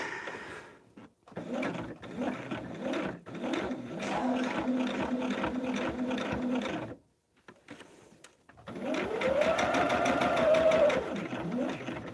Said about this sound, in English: I'm sewing them together by machine.